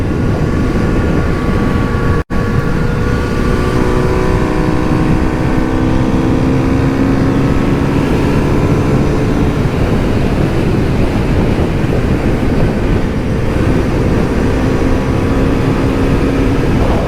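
A 2022 Kawasaki Z900 RS 50th anniversary edition motorcycle with a reworked engine runs on the road, its engine note climbing and falling through the gears beneath heavy wind rush, with one brief dropout early on.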